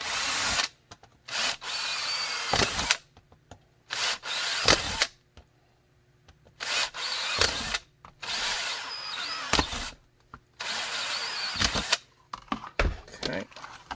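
A power drill bores out a tight-retention gun holster for a Ruger SR9 in short, sharp bursts, whining close up several times with quiet pauses between runs.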